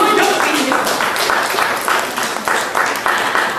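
An audience at a book launch claps steadily and loudly, a dense wash of applause that holds throughout.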